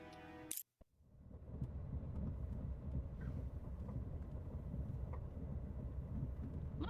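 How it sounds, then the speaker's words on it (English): A train ride in the video game Sherlock Holmes – The Awakened: a sharp click and brief cut, then a steady low rumbling rattle of a moving railway carriage, continuous and moderately loud. "Look, we're on a train."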